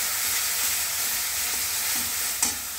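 Chicken curry sizzles and bubbles steadily in a pan as hot water goes in, a dense, continuous frying hiss with a faint clink near the end, close and without talk.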